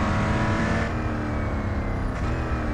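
Koenigsegg One:1 engine in the racing game Real Racing 3, a loud, steady high-revving drone that holds continuously throughout with no pauses.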